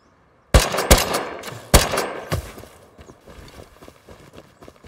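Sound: gunfire in the video game Rust

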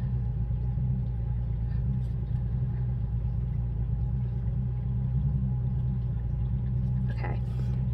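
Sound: neighbor's boat engine running in background

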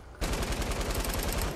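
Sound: gun firing in Fortnite video game

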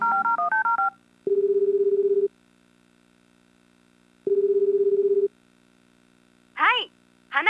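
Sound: telephone dialing tones in Tokimeki Memorial Girl's Side 2nd Kiss video game

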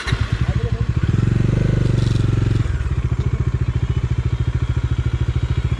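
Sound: Bajaj Dominar 400 motorcycle being started

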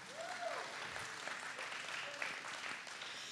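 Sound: audience applause

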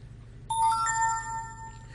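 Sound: messenger app message notification sound on a tablet

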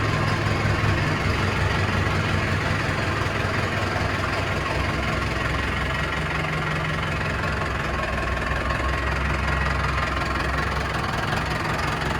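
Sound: tractor engine idling after a cold start

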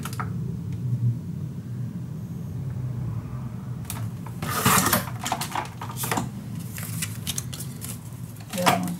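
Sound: cutting a scrapbook paper sheet into sections

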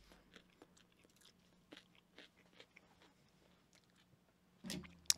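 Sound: biting and chewing a sandwich

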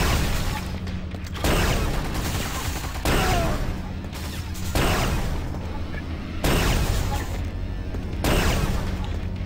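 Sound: turret gunfire in Quake 2 Ground Zero video game

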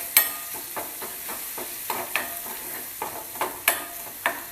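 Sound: stirring bread pakoda filling with turmeric

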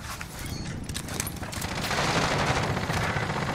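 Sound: gunfire in a video game, someone shooting from under the stairs

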